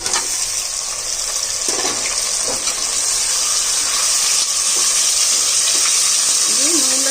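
Mutton sizzling in hot oil inside a pressure cooker, a loud, continuous bright hiss and crackle lasting throughout, close up, with occasional faint clinks.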